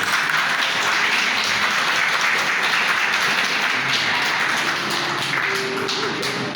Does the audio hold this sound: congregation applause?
yes